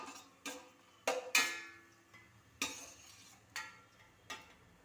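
Sharp scraping and clinking in a pan at irregular intervals as a spoon stirs cashews frying for pineapple payasam, with faint sizzling between strokes.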